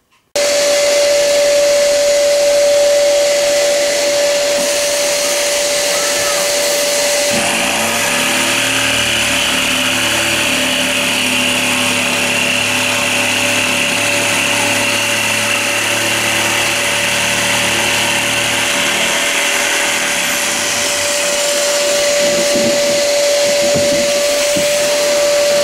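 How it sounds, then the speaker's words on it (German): A power drill bores a hole for a saw-trough basin in a model railway room, running as a steady loud whine for nearly the whole stretch with a deeper load change in the middle, no talking. "Dann wird gebohrt."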